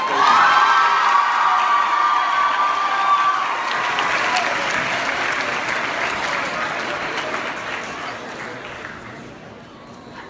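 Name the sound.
applause and cheering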